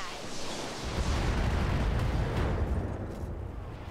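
Artillery fire in the video game Roguepoint lands as a dense, sustained rumbling barrage of explosions, loud and continuous with no clear gaps.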